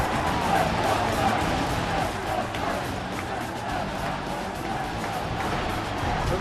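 A standing-room-only crowd at PNC Park in Pittsburgh for the National League Wild Card playoff baseball game, a dense, loud, sustained roar of cheering fans filling the whole stretch.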